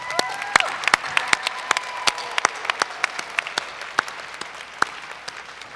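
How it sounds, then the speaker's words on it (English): Graduates at a fall commencement ceremony receive a round of applause: scattered, distinct claps from a modest crowd, fairly soft and sparse rather than thunderous, with a few faint voices beneath. "Let's give a round of applause to these graduates."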